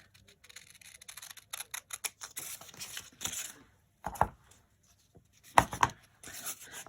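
Scissors or blade cutting through a roll of decorative paper, with quiet crisp snips and rustles in short uneven bursts, close and faint.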